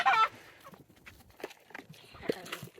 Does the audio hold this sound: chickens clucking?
yes